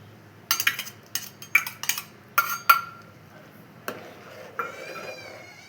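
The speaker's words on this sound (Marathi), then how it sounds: "आणि हे जे शेवया आहेत का नाही, आपण तुपामध्ये भाजून घेतले होतं ते पण याच्यामध्ये घालूया. त्याला चांगलं असं आपण ढवळून घेऊया." A spoon stirs ghee-fried cashews and almonds into sheer khurma in a metal pot, producing a run of sharp clanks and clinks in an irregular rhythm, then a few softer scrapes.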